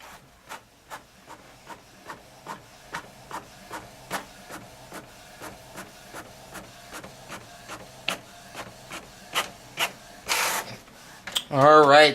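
An inkjet-style printer prints an image onto a transfer sheet, with a steady run of evenly spaced clicking strokes from the moving print head, followed near the end by a short whirring feed and a louder mechanical rattle as the sheet comes out.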